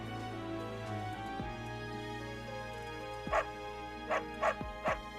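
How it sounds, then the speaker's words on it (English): Dog being petted in the video game Fire Emblem: Three Houses, giving several short barks and yips in the second half over a steady musical background, no talk. "You can pet the dog in Fire Emblem 3 Houses"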